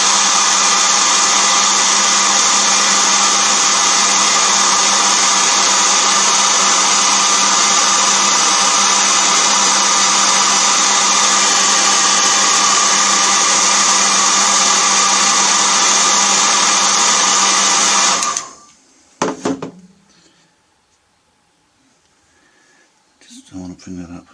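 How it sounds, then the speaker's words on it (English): A hair dryer drying paint on a painting blows with a loud, steady whirring hum for several seconds, then clicks off, leaving faint handling noises. "So I'm going to use the hairdryer to dry it off"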